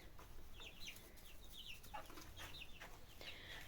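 Lohmann Brown hens clucking on a farm, repeated short calls from several birds over a steady low background, fairly faint.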